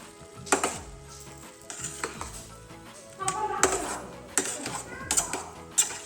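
A spoon stirs milk in a metal pot on the stove, giving irregular close scrapes and clinks against the pot sides, with quiet kitchen background and no clear talk.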